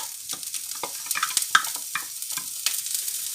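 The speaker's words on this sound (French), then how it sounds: "dès que c'est un peu chaud, on va mettre les jeunes oignons" Spring onions, white parts, sizzling in a gently warmed pan with occasional scraping stir strokes and soft crackles, fairly quiet and close, with no talking.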